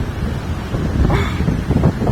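Niagara Falls seen on a walking tour, with a steady, dense broadband roar of falling water and gusting wind buffeting the microphone close by, continuous and fairly loud for about two seconds.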